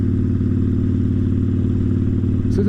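Steady, loud motorcycle engine drone while riding at night on a bike fitted with an upgraded LED headlight and front blinkers, a constant mid-pitched hum with a brief rising whine near the end.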